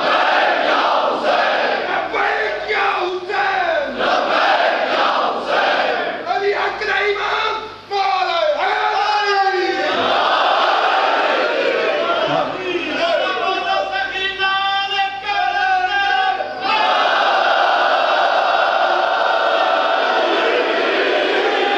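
A crowd at a Shia majlis gathering shouts a religious slogan in loud unison, with repeated surging chants and raised voices filling the hall throughout.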